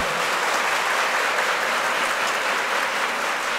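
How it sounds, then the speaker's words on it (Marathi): An audience at a birthday celebration ceremony for Vitthal Kangane claps throughout, a dense, even wash of applause at steady volume. "पोरीवर तुमच्या टाळ्या वाजून दाखवा मला"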